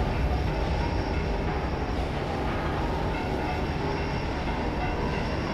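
A moving train in the video game F.E.A.R. 2 gives a steady, loud, continuous rumble with broad noise that holds level throughout, no distinct horn or clacks standing out.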